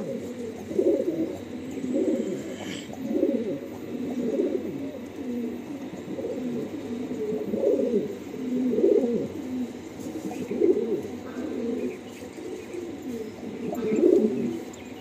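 Madrasi pigeons coo close by in repeated, throbbing bursts, roughly every second or two, with the rolling calls rising and falling over a quiet background.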